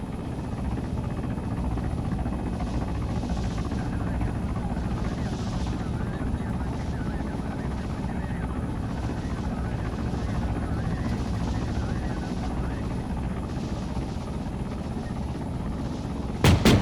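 Helicopters in the Arma 3 military video game thud and whine steadily overhead, a continuous rotor drone that fills the whole stretch at moderate level, with a sharp click at the very end.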